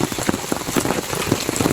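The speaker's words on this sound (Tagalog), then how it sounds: "Umuulan na naman." Rain falling steadily at a rainy farm campsite, a dense close patter of drops on surfaces with soft irregular taps throughout, alone with no voices.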